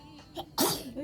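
A single sharp sneeze bursts out close by after a brief inhale, with a little throat noise leading into it.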